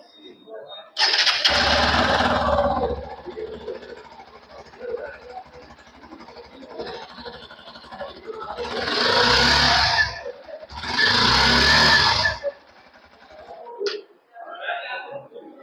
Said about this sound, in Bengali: একবার এর ইঞ্জিনের আর এক্সস্টের সাউন্ড শুনিয়ে দিচ্ছে।